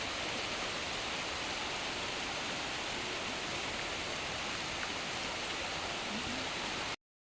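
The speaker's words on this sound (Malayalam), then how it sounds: "വെള്ളമൊഴുകുന്ന സൗണ്ട് നിങ്ങളെ ഒന്ന് കേൾപ്പിച്ചു തരാം" A flooded monsoon-rain stream overflowing its banks beside paddy fields in Pathanamthitta rushes with a steady, even roar of water, close and unbroken, with no voices.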